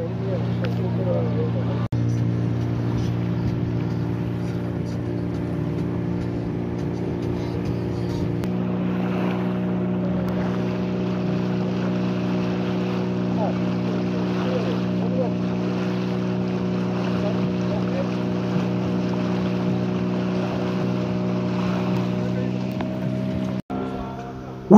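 A dhow carrying about 20 people across the sea: a loud, steady droning engine hum with wind and water wash throughout, a few faint voices underneath, ending in a sharp knock.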